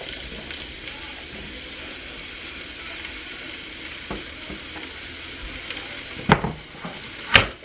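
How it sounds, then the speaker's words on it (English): Potatoes frying in bacon grease in a home kitchen pan, a faint, steady sizzle and crackle with a couple of sharper clinks of a utensil near the end. "Now we're going to add the potatoes."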